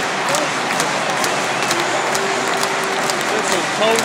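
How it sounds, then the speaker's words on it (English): Big sell-out stadium crowd at the athletics world championships in Berlin, a dense continuous roar with clapping mixed in, loud and unbroken from start to finish. "You hear the big crowd. The roar of the crowd is sell out tonight."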